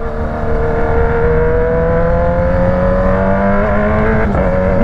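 A loud engine drones close by with a rising whine as a powerful BMW motorcycle passes at a stoplight, its pitch climbing steadily before a brief clatter near the end.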